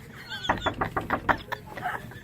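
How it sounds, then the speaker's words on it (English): Knuckles rap on a front door in a quick run of about eight knocks, close and loud, with faint voices in the background. "We're going to knock on the door"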